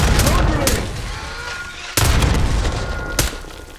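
A grenade blast and bursts of gunfire in Call of Duty: Black Ops 6 combat, with loud booming impacts around the one- and two-second marks and another sharp shot later, over continuous battle noise.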